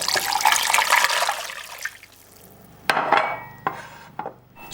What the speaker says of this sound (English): I'm just going to pour in enough water to cover that.